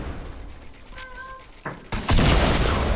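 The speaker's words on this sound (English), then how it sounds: "shoot a rocket launcher at the platform" A rocket launcher fires at a platform in the Fortnite video game, a sudden loud blast and roaring burst near the end after a short whistling tone and quieter game noise.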